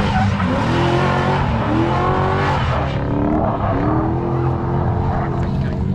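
A C5 Corvette engine revs hard with rising, wavering tones and screeching tires, loud and continuous as it slides at a drift track.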